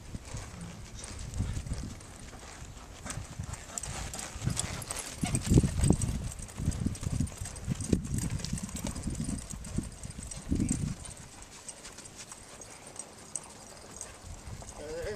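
A horse's hooves clip-clopping steadily on firm ground during a training session, a moderately close rhythmic clatter heard under a voice coaching the horse, with some low background rumble.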